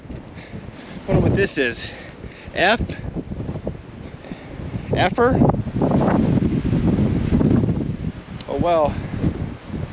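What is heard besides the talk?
wind in the open desert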